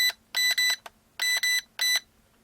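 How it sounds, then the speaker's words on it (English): Electronic beeps from a Syma X5C-1 quadcopter remote controller in a pattern: a quick double beep, a single beep, another double, then a single, loud and close. "it just gives me a double beep down and a single beep up"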